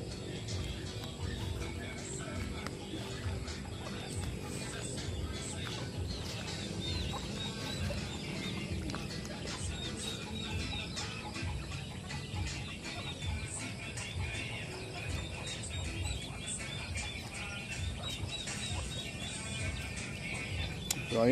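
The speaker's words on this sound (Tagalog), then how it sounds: "papakain si Annie ng mga manok at pabo" Chickens cluck and chatter throughout alongside turkeys at feeding time, with scattered bird calls over a steady outdoor background, a voice briefly audible at times.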